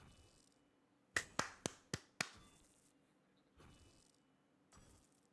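Five sharp hand claps in a quick, evenly spaced series for an audio sync check, close and crisp over a quiet room, followed by two softer thuds.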